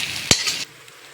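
Gongura leaves are stirred into hot tempering in a pan for pickle, with one quick scrape of the spoon over a soft sizzle that fades after about half a second.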